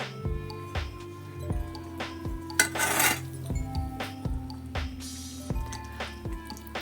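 Pineapple kesari bath simmering in a pan on a low flame, thick bubbles popping and plopping at an uneven, unhurried rhythm up close, with faint clinks of the pan.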